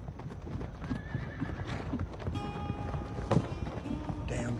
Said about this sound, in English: Damn horses. They're getting worse.